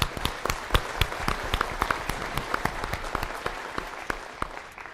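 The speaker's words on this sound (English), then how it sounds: "So let's give them a round of applause." Scattered audience applause at an electric cooperative's annual meeting, sharp individual claps standing out over a steady patter, moderately close and fairly thin, continuing evenly for several seconds without talk.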